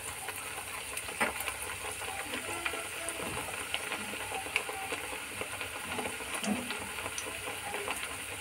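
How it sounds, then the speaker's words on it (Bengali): Beguni, battered eggplant fritters, fry in hot oil, giving a steady faint sizzle and crackle with small pops scattered throughout. "দুটো দিয়ে দিলাম। এরকম করেই সবগুলো ভাজবো।"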